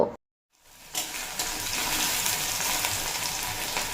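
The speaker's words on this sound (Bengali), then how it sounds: "শশাগুলো হাই ফ্লেমে রেখে দুই মিনিট মতো ভেজে নিয়েছি" Cucumber pieces frying over a high flame in a pan give a steady, loud sizzle that starts after a short silence and keeps going without break. Nobody speaks.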